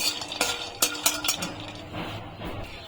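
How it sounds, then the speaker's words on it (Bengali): Nuts being stirred in a kadai with a metal spatula, giving a few sharp scraping clinks over a low background rustle, close and moderately loud. "বাদামটা একটু নেড়ে নেব"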